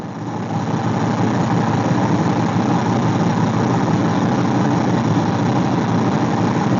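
A car engine idles steadily on a knock-off Holley 2-barrel carburetor with the choke still on, a continuous even rumbling drone close by with no talk.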